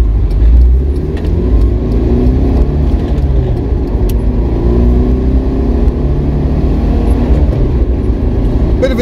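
A Citroen GSA car driving along, its steady engine and road rumble close and continuous throughout, with no clear revving peaks.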